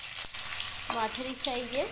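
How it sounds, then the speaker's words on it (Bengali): Potatoes sizzle steadily in a wok as they fry for a Bengali home meal, a broad hiss running throughout while someone talks over it. "দেখো এদিকে আমি কড়াইতে আলু ভাজতে দিয়ে দিয়েছি"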